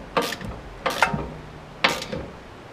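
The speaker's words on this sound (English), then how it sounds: "We tighten those up." A ratchet tightens the pinch bolts on a VW Rabbit steering knuckle, the top camber bolt and the bottom fixing bolt, during a Solowerks S1 coilover install. Three short, sharp bursts of clicking sound close by, with pauses between them.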